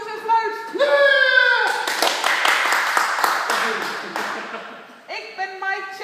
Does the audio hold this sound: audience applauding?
yes